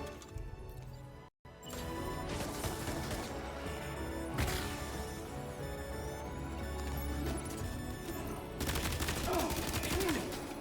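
Sustained rapid gunfire in the video game Death Stranding 2, dense bursts running nearly continuously with a brief dropout early on and heavier volleys near the end, loud and close.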